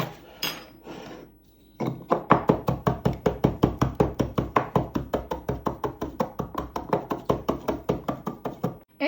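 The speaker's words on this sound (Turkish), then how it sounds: "Ve güzel bir şekilde onu havanda dövelim" One dessert spoon of flax seeds pounded in a mortar with a pestle: around thirty close, sharp, evenly spaced thuds in a fast steady rhythm after a few scattered knocks, with no talk.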